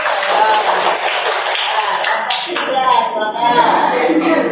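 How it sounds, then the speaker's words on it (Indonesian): A classroom group claps for a student team, a short burst of uneven hand clapping mixed with chatter and voices of students and teacher close by. "Wah, tepuk tangan."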